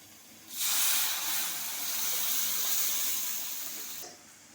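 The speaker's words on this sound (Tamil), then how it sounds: "கொஞ்சம் தண்ணி சேர்த்து" Water pours into tempered Madurai-style thin chutney in a pan, a steady hissing splash running for about three and a half seconds, close and fairly loud, with no talk.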